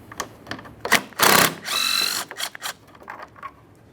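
A ratchet or power driver works 10mm headlamp mounting bolts loose on a 2013-2020 Ford Fusion, giving short bursts of whirring and clicking close by with brief pauses between.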